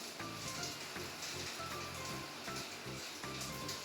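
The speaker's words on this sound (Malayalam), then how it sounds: "പിന്നെ ഈ മുട്ടയും ഈ വെജിറ്റബിൾസും കൂടി നല്ലവണ്ണം ഒന്ന് മിക്സ് ചെയ്തെടുക്കണം." Egg and vegetables sizzling in a pan, a steady soft crackle with faint scraping strokes from stirring, quiet and close with no talk.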